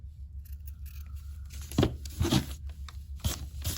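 Scissors snip through felt close up, with several crisp cuts and light rustling of the fabric while trimming petals for a craft project, and no one talking.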